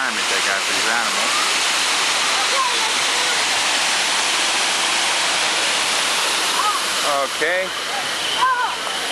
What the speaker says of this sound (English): Got a gigantic waterfall over here.